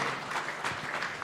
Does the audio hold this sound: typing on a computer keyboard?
no